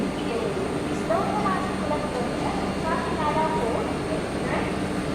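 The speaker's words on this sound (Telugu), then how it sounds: "ట్రైన్ మూవ్ అవ్వకముందే డోర్ క్లోజ్ అయిపోయింది స్టార్ట్ అవుతుంది" A Vande Bharat train begins moving at Vijayawada station after its doors close, with steady rumbling rail noise and a crowd of voices talking throughout.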